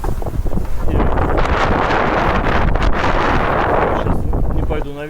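Strong wind buffets the microphone at night outdoors on a crossing to the island of Naxos, a loud continuous roaring rush with gusts, close and dominating throughout.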